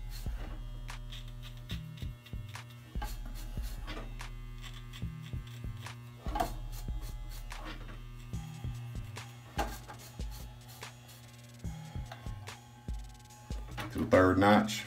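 Electric hair clippers fading a beard give a continuous low, steady buzz with a mains-like hum throughout, with small clicks and handling noises on top.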